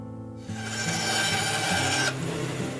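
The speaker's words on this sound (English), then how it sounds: "I use a disc sander to flatten the limb pad overlay" A disc sander grinds flat the fiberglass limb pad overlay on a bow limb, a steady close rasping whir that starts abruptly, runs for about a second and a half, then drops away to a lower hum.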